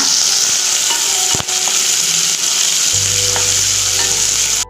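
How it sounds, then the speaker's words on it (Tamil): Onions sauté in a pan for chayote chutney with a loud, close, continuous sizzle, one sharp knock near the start and a low hum entering for the final stretch, no speech. "வெங்காயம் நல்லா வதங்கிடுச்சு"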